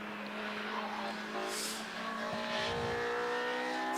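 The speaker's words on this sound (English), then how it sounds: "You can hear those Honda noises, I think, on your screens now." Honda K-Series-swapped race cars lap Donington Park circuit during time attack racing, engines droning and shifting pitch at a distance with a brief hiss of passing noise.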